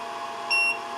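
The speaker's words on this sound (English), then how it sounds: "So it beeped. You'll hear a beep sound." A FormBot T-Rex 2+ 3D printer gives a single short, high electronic beep over a steady background hum.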